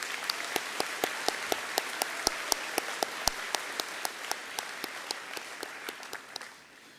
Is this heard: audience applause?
yes